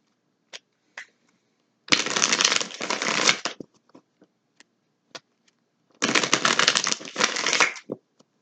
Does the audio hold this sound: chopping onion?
no